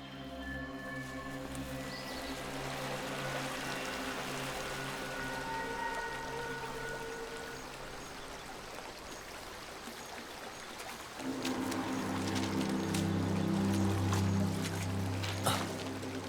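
A flowing stream of water with a steady, broadband rush that runs throughout, joined by low tonal hums and a louder swell in the final seconds.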